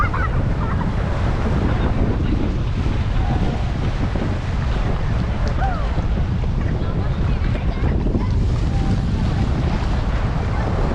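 Speed boat ride on the sea off Rushikonda beach, with steady roaring engine and hull noise mixed with heavy wind buffeting the microphone, loud and unbroken throughout.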